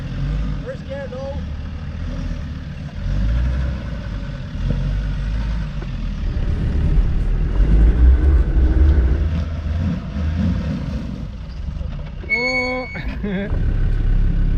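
A vehicle on an off-road track in Norway creeps along slowly in low first gear, its engine a steady low rumble throughout, with a voice speaking briefly near the end.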